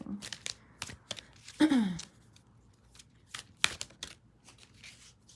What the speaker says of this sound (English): These cards are harder to shuffle, and it's hot in here, so they're kind of sticky.